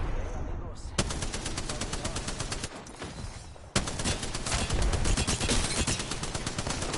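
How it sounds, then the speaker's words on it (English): Rapid automatic gunfire in the battle royale shooter Apex Legends, a continuous loud stream of shots broken by one brief pause and a heavy hit, with a voice talking faintly beneath. "I was shooting you in the back of the head then"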